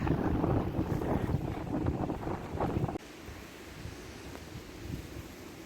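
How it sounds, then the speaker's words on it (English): Strong gusty wind by a lake buffets the microphone outdoors in a loud, rumbling roar that eases to a steadier lighter rush halfway through. "getting windy now that we're close to the lake. Really windy."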